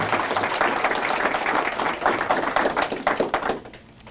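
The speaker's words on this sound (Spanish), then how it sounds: "Fuertes aplausos a Jesús por su amor y su misericordia" A church congregation applauds for Jesus, a dense burst of clapping that holds steady and then thins into scattered claps before fading out.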